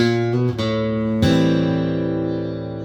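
An electric guitar in drop D tuning plays a short riff from a song: a few quick low notes, then a heavy low chord rings out and slowly decays.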